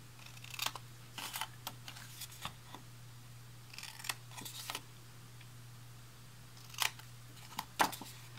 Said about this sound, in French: Je vais retirer les coins en coupant en biseau de cette façon, au niveau de la jonction des plis